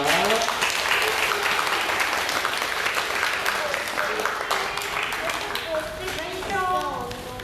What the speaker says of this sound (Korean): 우리 아이들에게 큰 격려 선생님들에게 응원의 박수를 좀 보내주셨으면 좋겠습니다